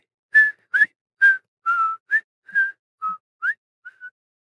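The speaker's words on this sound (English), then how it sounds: "The hooded lady strides away into the crowd, whistling a cheerful tune for her victory." A hooded woman whistles a cheerful tune, about nine short clear bright notes with small pauses between them, close and alone in otherwise quiet surroundings.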